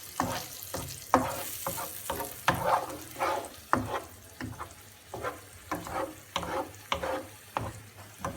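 Spanish-style sauce fries in a pan, a soft steady sizzle broken by rhythmic stirring strokes about twice a second, close and fairly quiet.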